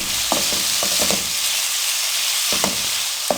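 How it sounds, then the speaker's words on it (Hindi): Onions frying on a low flame, a constant soft sizzle with occasional light clicks and scrapes of stirring, no talk. "प्याज़ों को लो फ्लेम पे हल्का गुलाबी कर लेंगे।"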